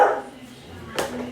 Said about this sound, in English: you're gonna hear Cooper barking because that's what he does